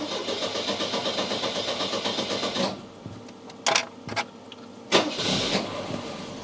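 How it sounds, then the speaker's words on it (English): A Volvo 244 engine starting during an ignition tune-up: close, loud starter cranking churns in a fast steady rhythm for almost three seconds, then gives way to a quieter stretch broken by a few sharp clunks and bursts, with no talking. "I'm gonna fire the car up now."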